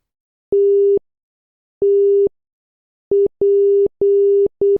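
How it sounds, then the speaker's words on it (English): Pure steady Morse code tones from a puzzle sound out alone against silence, clean mid-pitched beeps of long and short lengths with uneven gaps between them. "the audio is comprised of Morse code"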